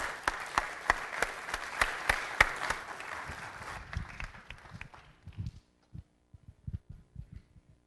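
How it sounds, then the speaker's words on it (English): A city council chamber audience gives a round of applause, dense clapping for about four seconds that thins into scattered claps and fades to quiet. "One more round of applause for these folks."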